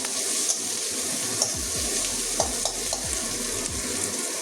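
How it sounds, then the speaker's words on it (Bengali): Onions fry in a pan with a steady close sizzle, broken by regular scraping and clinking stirs of a spatula against the metal, no voices. "এটা কাঁচা গন্ধ যাওয়া পর্যন্ত ভেজে নেব।"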